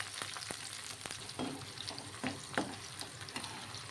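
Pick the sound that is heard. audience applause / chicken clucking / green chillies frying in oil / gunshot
green chillies frying in oil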